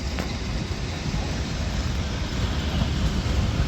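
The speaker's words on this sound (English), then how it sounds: "we get on probably my favorite interurban that is at the train museum, Illinois Terminal 101" Illinois Terminal 101 interurban car running at a train museum, a steady low rumble of wheels and motors with rushing air, growing slightly louder toward the end.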